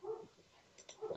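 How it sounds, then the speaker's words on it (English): Dogs barking faintly in the background, a couple of short muffled barks at the start and end with a quieter yip between them. "Dogs, be quiet."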